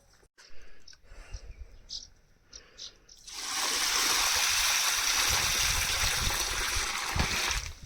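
Water poured from a bucket rushes out in a loud, steady gush that follows a few seconds of quiet indoor sounds and talk.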